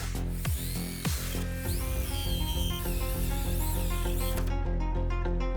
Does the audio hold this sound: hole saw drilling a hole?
yes